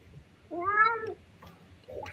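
A house cat meows once, a clear drawn-out call standing alone at close range, followed by a shorter, fainter second meow.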